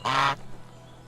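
A goose in the medieval survival game Medieval Dynasty gives a single loud, nasal honk, close by, then quiet background ambience.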